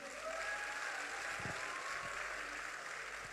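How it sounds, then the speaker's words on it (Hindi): An audience claps steadily through an outdoor comedy show at the Kanpur Dehat festival, a continuous wash of applause that stays fairly even and distant for the whole stretch. "आप जोरदार ताली बजा के माहौल बना दीजिए"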